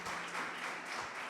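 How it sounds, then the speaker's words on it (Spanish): A church congregation gives a brief burst of applause, a dense even patter of many hands heard fairly distantly, with no talking. "un aplauso tremendo"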